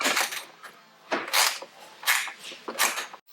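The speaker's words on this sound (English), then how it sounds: "got ourselves a little 13 ratchet spanner to do these up" 13 mm ratchet spanner tightening rivnut bolts on a G4 Edition Land Rover, several short clicking ratchet strokes in irregular bursts, close and crisp, with quiet gaps between them.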